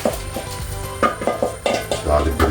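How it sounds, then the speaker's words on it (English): A spoon scrapes and knocks around a pot of Jamaican-style cornmeal porridge with red callaloo, irregular close stirring strokes with soft clinks and a light sizzle underneath. "Don't stop stirring like a porridge you're making."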